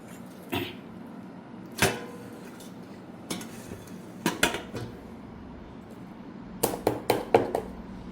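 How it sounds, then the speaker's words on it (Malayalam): A steamer pot being set up for white pola, with scattered metallic clinks and clatters of pot, lid and utensils, some single and some in quick clusters, over a quiet background. "ഇനി ഞാനൊരു സ്റ്റീമർ എടുത്തിട്ടുണ്ട്, അതിലേക്ക് വെച്ച് കൊടുക്കാം."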